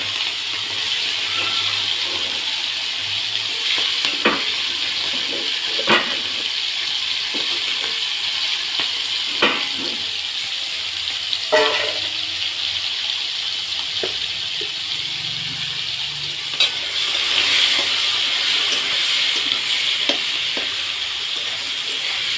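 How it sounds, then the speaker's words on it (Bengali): Shrimp fry in a pan for a shrimp and mushroom curry, giving a steady close sizzle and hiss with occasional clicks and scrapes of stirring throughout. "প্রথমে চিংড়িটা ভেজে নিলাম।"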